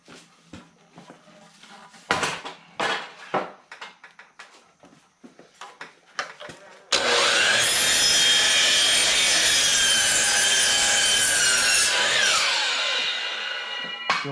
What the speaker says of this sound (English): I'm using a DeWalt. The head on this one actually comes out so that you can cut longer pieces of wood.